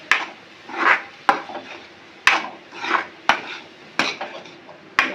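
Cauliflower being sautéed in a pan, sharp rhythmic knocks of a utensil against the pan about once a second, each followed by a brief scraping stir, close and clear.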